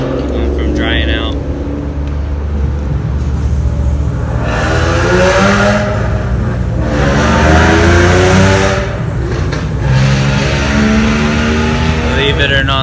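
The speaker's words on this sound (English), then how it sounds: "Believe it or not, that's a Mustang." A Ford Mustang engine revs loudly nearby, its pitch climbing and falling in a couple of strong sweeps over a constant idle drone.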